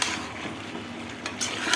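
A utensil stirs fish into a vegetable curry in a pan with soft scraping and clinking over a steady sizzle, close and fairly quiet.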